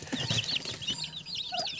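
High, rapid cheeping from several young turkey chicks, a busy overlapping chorus close by, with a soft cluck or two underneath.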